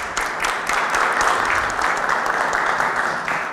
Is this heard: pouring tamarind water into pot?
no